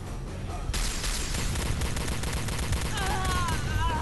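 Dense bursts of rapid gunfire in the video game Star Trek: Elite Force II crackle throughout, with a faint voice-like tone appearing near the end.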